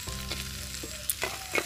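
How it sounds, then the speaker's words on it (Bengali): Pre-fried paneer goes into spiced rice in a clay handi, producing a short close sizzle with a few stirring knocks and clinks against the pot, brief and moderately loud. "তো পনিরগুলো আগে থেকেই ভেজে রাখা হয়েছিল, এবার এগুলো দিয়ে দেওয়া হচ্ছে।"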